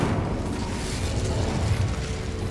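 The Incendio fire spell in Hogwarts Legacy gives a sustained roaring whoosh of flame with a low rumbling burst, loud and steady throughout, with no voices.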